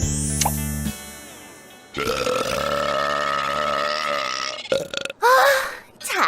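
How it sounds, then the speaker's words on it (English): A cartoon female character lets out loud, drawn-out burps, one long belch in the middle followed by a shorter burst near the end, amid bright music-like tones and sound effects. "Quick! Someone teach me how to burp a rainbow."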